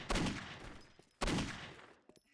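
Two loud gunshots in the PC video game Postal 2, about a second apart, each with a sharp crack and a short ringing tail, followed by faint clicks.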